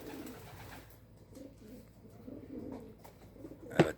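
Male homing pigeons coo softly in short, low repeated phrases after landing, faint and close, ending with a brief sharp flutter or knock.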